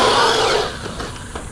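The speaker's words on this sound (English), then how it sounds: "That 1950 kV motor got a lot of torque." A Redcat Valkyrie RC car's 1950 kV electric motor whirs loudly at high pitch for a moment, then winds down and fades into quieter mechanical noise.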